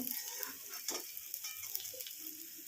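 Onion frying in a pan alongside eggplant and greens, a faint, steady sizzle with occasional light scrapes of a spatula, heard alone without talk.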